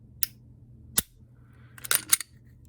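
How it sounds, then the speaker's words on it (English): Trigger of a Glock 42 .380 pistol fitted with a Ghost Edge trigger connector, giving a single sharp click, then a cluster of quick mechanical clicks and rattles a second later, close and clear with no talk. "Let's take a look at this trigger pull here."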